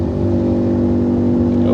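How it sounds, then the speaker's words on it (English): A loud motorcycle engine drones steadily close by as it slows down, its deep harmonic hum holding level through the short stretch. "why is this guy just slowing down next to me with this loud motorcycle?"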